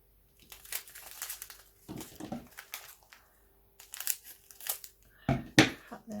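A plastic bag of diamond painting drills is opened, making several bursts of close, crinkling and crumpling plastic separated by brief pauses, with a final loud rustle near the end.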